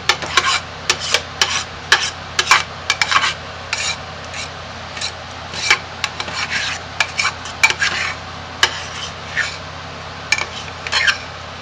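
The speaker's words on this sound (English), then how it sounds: "Now let's finish scraping the sides." A spatula scrapes the sides of a bowl of homemade lye soap mixture in quick repeated rasping strokes, close and fairly loud over a low steady hum, with no talk.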